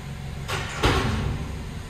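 Sliding doors of a car elevator roll shut in two quick swishes followed by a soft thud, heard nearby over a low hum in an enclosed space.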